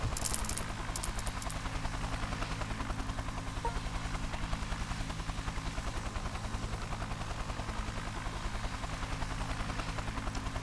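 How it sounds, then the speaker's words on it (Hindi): Helicopter moving across the surface of the sea, its rotor beating in a fast, even chop that holds steady throughout. "तो ये कुछ एडवांस टेक्नोलॉजी का हेलीकॉप्टर है, तो ये पानी की सतह पे भी आसानी से चढ़ सकता है"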